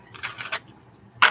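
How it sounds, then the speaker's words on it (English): Tarot cards are shuffled by hand in several quick, papery riffles. A short, sharp snap of the deck follows after a pause. The sounds are near and fairly quiet, and no one speaks. "One more shuffle."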